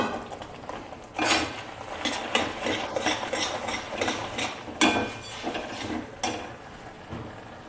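Sesame seeds are stirred into hot jaggery syrup in a pan with a metal utensil, giving repeated scraping and clinking strokes that come in bursts, close and fairly loud.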